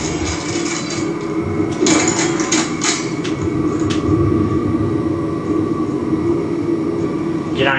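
A tram ride in Mass Effect 3 produces a continuous loud rumbling rail drone with rattling, metallic clanks and a rising whine near the end, steady throughout and with no one talking.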